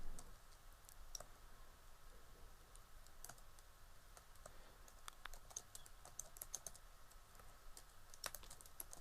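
Quiet, steady typing on a computer keyboard while entering data into an Excel salary sheet, with a continuous run of soft key clicks and no talking.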